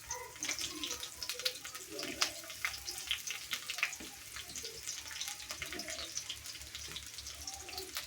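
Onion and green chillies frying in oil in a village kitchen, giving a faint, patchy sizzle with scattered crackles and light clinks, sitting under quiet talk throughout.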